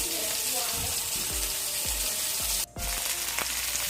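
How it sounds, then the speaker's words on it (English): Hamburger patties frying in a pan at home: a dense, close, steady sizzle with a few soft knocks and clinks, and a short break near the end. "So here is my hamburger. It has been cooking for 5 minutes."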